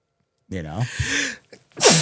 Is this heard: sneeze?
yes